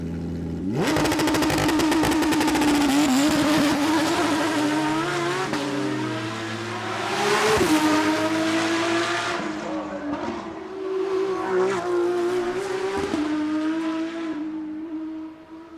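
A Porsche race car at speed, its engine holding a loud sustained howl that rises and falls through gear changes and revs, with sharp tire squeal breaking through, continuous and close for roughly fifteen seconds.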